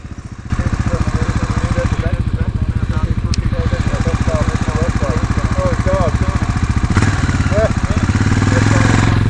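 A dirt bike engine runs on a technical single-track trail, its close, steady throbbing putter holding for several seconds and growing slightly louder toward the end.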